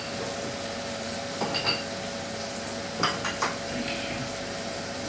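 Spices frying in a pan with black pepper and red chilli being stirred now and then, a steady sizzle underneath a few light scrapes and clinks of a utensil against the pan; no voices.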